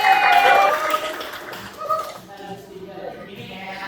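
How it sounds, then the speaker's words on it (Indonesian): A class of pupils applauds a classmate. A short patch of dense clapping comes at the start and then fades, and a teacher's voice talks over and after it. "Beri tepuk tangan dulu untuk Jaini"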